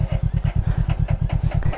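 A tractor engine turns over and settles into a steady idle, its rapid, even low thump pulsing close by throughout.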